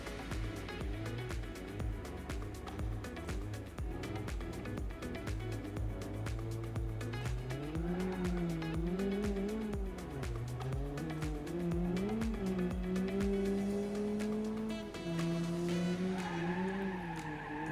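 Cars in the BeamNG Drive video game roar and skid continuously, engine pitch rising and falling through shifts, with screeching tires and rapid clattering impacts throughout, loud and close.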